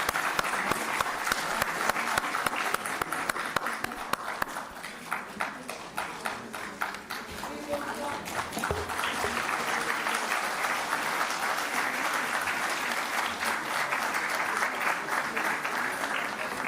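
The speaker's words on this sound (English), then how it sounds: "A big round of applause for ma'am," Sustained applause from a conference audience at a women's empowerment event, dense and steady throughout, with a few louder individual claps near the start.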